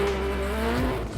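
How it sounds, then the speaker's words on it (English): A rally car at the Ashley Forest Rallysprint launches off the start line, its engine loud and close with a rising harmonic whine through first gear that drops suddenly near the end. "the car didn't sound that good off the line"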